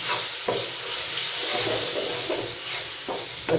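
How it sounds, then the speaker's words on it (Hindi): Garlic potatoes frying on low gas, a dense steady sizzle and hiss with occasional stirring scrapes, close and continuous without speech. "इसे अच्छे से सुनहरा होने तक हमें भूनना है।"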